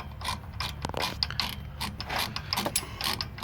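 A Snap-on ratchet clicks in quick, uneven bursts of sharp metallic ticks while tightening the rear hub on a 2006 Ford F250 truck, close and fairly quiet, with no talking.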